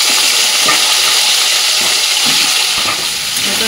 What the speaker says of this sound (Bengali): এবার তেলের সাথে ভালো করে একটু ভাজা ভাজা করে নেবো হালকা করে।